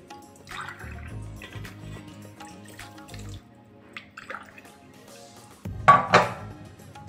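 Water poured from glasses into a metal pot, with drips and clinking of vessels, then a louder splashing pour near the end.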